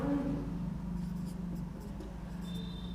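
Chalk scratching across a blackboard during a maths lesson, a continuous soft scraping over a low steady hum of room noise, close and quiet.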